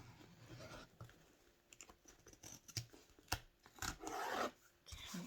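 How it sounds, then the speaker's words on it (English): Close, quiet snips and rasping as scissors cut through stiff canvas, irregular cuts with handling rustles between them. "I'm going to cut the rest of this out with scissors"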